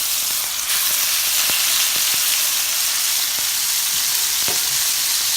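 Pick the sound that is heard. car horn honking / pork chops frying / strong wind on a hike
pork chops frying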